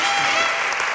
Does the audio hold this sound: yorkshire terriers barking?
no